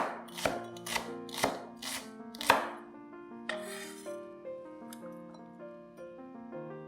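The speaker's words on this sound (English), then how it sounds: "Pat down the white part to help it release its flavor and cut it up into pieces." Knife chopping the white part of spring onions on a board, a handful of crisp, evenly spaced thunks followed by quieter clinks and ringing tones, close and moderately quiet with no voices.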